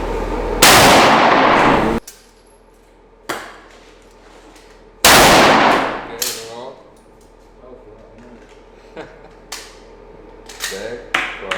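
Two loud, sharp gunshots from Soviet rifles ring out about three seconds apart at a shooting range, each followed by a long echoing tail, then metallic clicks and clanks of the rifle action being worked.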